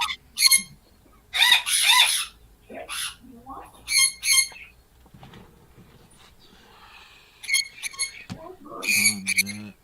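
Pet birds kept in a loft squawk in loud, harsh bursts, several close calls separated by short gaps, with a few quieter chirps and rustles between them.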